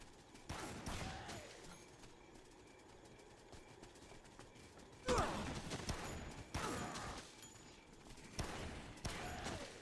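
Gunfire in a video game comes as several sharp, distant-sounding volleys scattered over a low rumbling background, fairly faint overall with irregular spacing.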